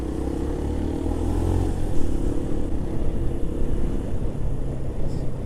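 Keeway RKV 125 motorcycle on the move, a steady low engine rumble with constant wind and road roar, holding an even level without pauses.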